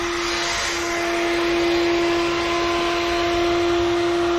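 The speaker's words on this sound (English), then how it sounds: "with a vacuum cleaner applying vacuum to the crankcase through the oil filler" A vacuum cleaner draws suction on an aircraft engine crankcase through the oil filler, a loud, steady whine and rush of air that continues unbroken throughout, close to the microphone.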